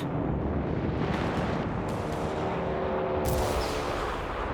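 Mortar fire and explosions in Company of Heroes 3 on the Dunkerque map, a dense continuous rumble of blasts and distant thuds with a few sharper bursts standing out.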